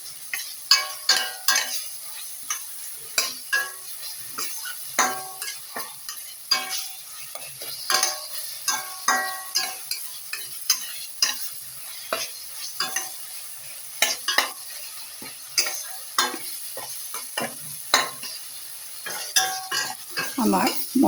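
Green chilies sautéed in spice paste for Bengali bhola fish (Indian jewfish) curry, with a steady sizzle broken by frequent sharp spatula scrapes and clinks against the pan in an uneven stirring rhythm, close and fairly loud.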